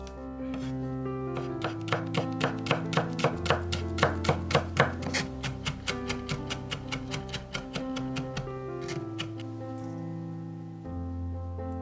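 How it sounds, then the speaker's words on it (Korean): A knife mincing three garlic cloves on a cutting board gives a run of crisp, evenly spaced chops that speed up and then slow, close and clear over soft background music. "마늘 3개는 다져서 볼에 담는다."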